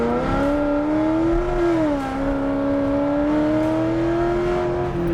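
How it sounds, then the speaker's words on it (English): A supercharged 2016 C7 Stingray Corvette accelerating at just over half throttle up to 70 mph, its engine drone rising steadily with a smooth whine, loud and continuous from inside the car. "we got up to 70 miles an hour. I was just over half throttle."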